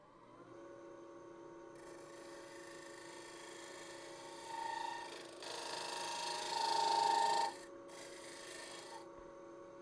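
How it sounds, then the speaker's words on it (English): A negative rake scraper rasps against the end grain wall of a wooden bowl spinning on a lathe, a soft continuous scraping over the motor hum that grows louder in the middle before easing off. "let me see if I can't come in there with a negative rake scraper and clean up this wall a little bit"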